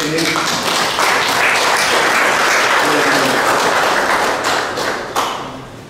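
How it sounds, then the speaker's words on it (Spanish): Crowd at a Mass for a morenada dance group giving a sustained round of loud, dense clapping that holds steady before tapering off near the end. "Un montón de aplauso"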